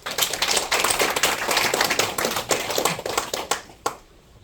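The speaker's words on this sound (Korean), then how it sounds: "동의하시면 박수 한번 치십시오." An audience at a gathering claps in a brisk, uneven burst of sharp, close hand claps that gradually thins out and stops.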